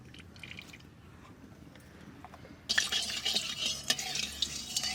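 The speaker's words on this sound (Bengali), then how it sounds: "কড়াই গরম হয়ে গেছে, এবার তেল দিয়ে দিচ্ছি।" Oil poured into a hot kadai for tempering an egg curry: a quiet stretch gives way midway to a sudden, bright crackling sizzle that keeps spitting and popping close by until the end.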